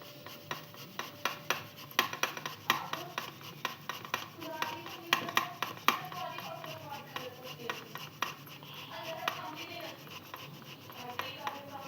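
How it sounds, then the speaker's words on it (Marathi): A peeled sweet potato is rubbed over a kitchen grater, giving steady scraping and rasping strokes with light metallic clinks, close and moderately quiet, with no talk over it. "इथं आपलं रताळं सोलून झालेलं आहे आता त्याला आपण खिसून घेऊया"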